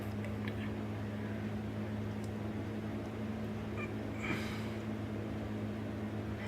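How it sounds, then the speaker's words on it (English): A fan runs overhead with a steady low hum and whir, on board the sinking S.S. Warrior, with a faint brief rustle partway through. "Sorry about the noise here above, that's the fan."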